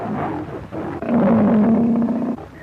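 A loose tiger gives a deep, rumbling roar that swells and holds for over a second, close and loud against a noisy background.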